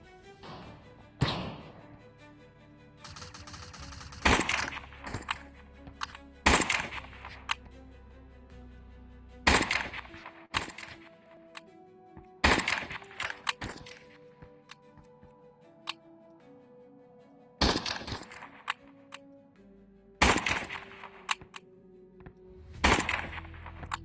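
Rapid bursts of SMG fire and heavier rocket launcher blasts in the online video game Animal Rivals, arriving as a dozen or so sharp, loud volleys spread irregularly over a busy game soundtrack.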